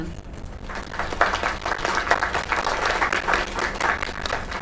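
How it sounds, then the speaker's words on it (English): Applause from an audience in a video game fills the moment, a dense wash of clapping that swells and holds steady at moderate volume throughout with no words. "Another round of applause."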